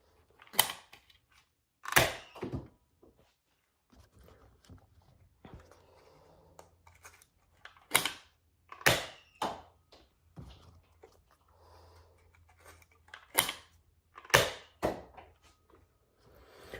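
Nerf Elite 2.0 Trio SD-3 blaster firing Screamer darts from the top barrel, a series of sharp snapping pops in irregular pairs spread over several seconds, with quiet handling clicks and rustles between shots.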